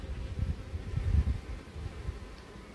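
Honeybees buzz around an apiary hive in a soft, steady, low hum that swells slightly and continues without any voices.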